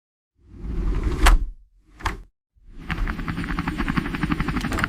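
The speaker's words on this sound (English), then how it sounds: "H is for helicopter." A helicopter whirs past with a rushing swoosh, a brief quieter burst, then a steady chopping rotor drone that continues to the end.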